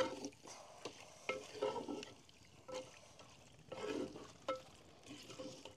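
Spicy mutton curry frying in oil in a pot on a farm is stirred in quiet, irregular scraping strokes over a low sizzle.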